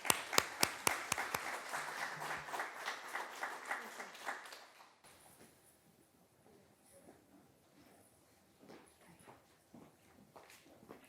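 An audience at an education research conference keynote claps loudly and briskly for several seconds, then the applause thins into scattered, quieter clapping and room noise.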